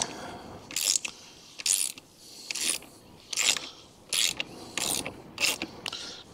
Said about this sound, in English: it's a little 10mm socket